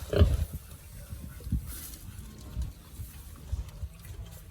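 A native pig sow, a breeding mother on a farm, gives a series of low, soft grunts at an uneven pace, fairly close but quiet, with light background noise around her.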